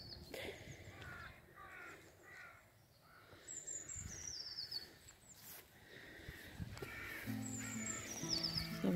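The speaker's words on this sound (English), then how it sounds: "Birds are quite chatty for a change." Crows caw and other birds call and chirp through a bright morning walk in St Briavels, with bursts of cawing and squeaky calls at moderate distance, gaps of quieter ambience between them and a louder flurry near the end.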